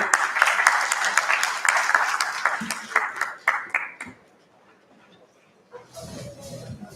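Conference panel audience applause with scattered clapping, fairly loud for about four seconds, then fading to near silence before a brief low rumble returns.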